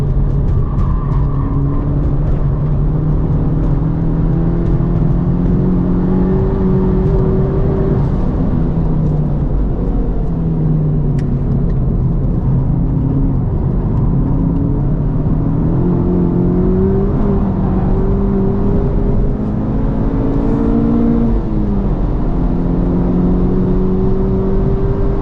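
A 2023 Honda Civic Type R lapping a race track with its tail stepping out, its engine droning loud and steady as it rises and falls through the revs, with a whirring drivetrain and no talking.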